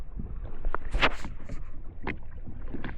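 A small boat moves on water near rocks, with splashing, knocking and bumping against the hull, a sharp burst of splash near the start, and wind buffeting the microphone.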